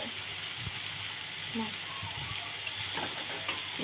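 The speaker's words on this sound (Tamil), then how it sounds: "கிளறி விட்டுக்கிட்டே இருங்க" Kothu parotta, a chopped flatbread dish, being stirred and fried in a pan in a home kitchen, giving a steady sizzle with faint scraping knocks scattered through it.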